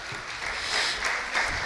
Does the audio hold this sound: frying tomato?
no